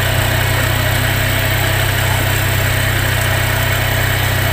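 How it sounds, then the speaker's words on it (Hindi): A small engine idling steadily and loudly up close while its idle screw is loosened, a constant low droning hum with even vibration throughout and no voices. "इंजन का जो स्पीड है वो और भी कम हो जाता है, देख सकते हैं"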